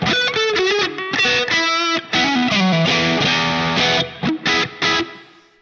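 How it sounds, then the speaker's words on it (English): An electric guitar runs through a tube screamer overdrive into a modeled Marshall JTM-45 on a Line 6 Pod HD500. It plays loud, gritty riffs and bends, ending in a few choppy stabs before fading. "Here's the screamer,"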